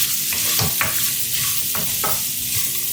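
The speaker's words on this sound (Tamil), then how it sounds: "சேர்த்துட்டு இது போல் நல்லா வதக்கிக்கோங்க." Coconut pieces sautéing in a pan on low flame for salna, a constant close sizzle with spatula scrapes and stirs every half second or so, no talking.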